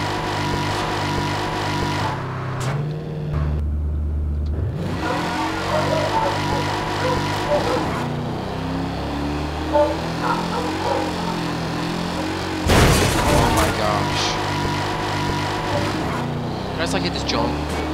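Car in the video game Garry's Mod, its engine droning and shifting pitch as it drives, with revving swells and a loud burst midway, while a voice talks over it.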